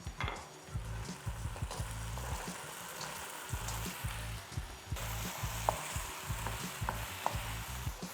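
Breadfruit frying in a thickened soy glaze, with a steady close sizzle broken by rhythmic stirring scrapes and bubbling throughout, and no voices.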